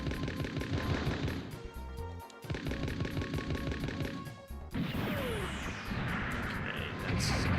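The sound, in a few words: head vulcan guns firing in a Mobile Suit Gundam video game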